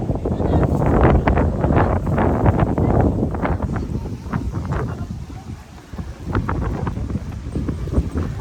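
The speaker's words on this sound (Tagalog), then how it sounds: "Ang lakas ng hangin." Strong wind roars and buffets the microphone continuously at a farmhouse in Pililla, Rizal, Philippines, with a low rumbling gusty texture and faint voices in the background.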